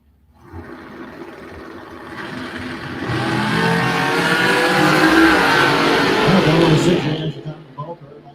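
A Chevy S10 and a Corvette Roadster launch at a drag strip, their engines swelling into a loud broadband roar that builds, holds for several seconds, then fades as the cars run away.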